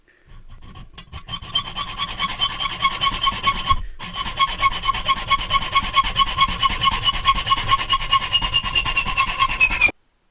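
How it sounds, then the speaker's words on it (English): A hand saw cuts through stainless steel threaded rod held in a vise, a steady rhythmic rasping of back-and-forth strokes, close and loud, with a brief pause near the start before the cutting continues to the end. "So I'm going to cut one and then cut them all the same."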